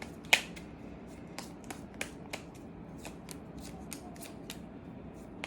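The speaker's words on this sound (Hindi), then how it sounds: "पहले सब कार्ड्स मैं शफल करके अलाइन करूंगी" Tarot cards are shuffled and aligned in a quiet room, a series of soft, crisp flicks and light taps scattered irregularly over several seconds, with one sharper snap near the start.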